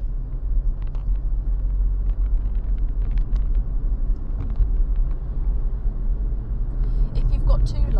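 A car accelerates out of a bend on a rural road, a steady low engine rumble and road noise heard from inside the cabin, with no talking.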